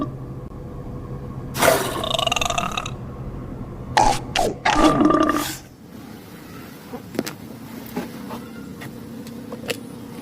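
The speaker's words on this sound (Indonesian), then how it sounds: "Ternyata Pteranodon." A toy Pteranodon gives a harsh, roaring screech in two bursts, a longer call followed by a quick cluster of calls, fairly loud and close, then fading to quiet room noise.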